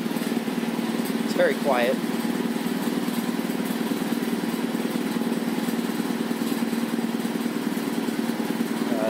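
A 1960s Quincy 230-32 air compressor driven by a 3 hp Dayton Dyna motor runs steadily with a constant mechanical drone, with someone briefly speaking over it.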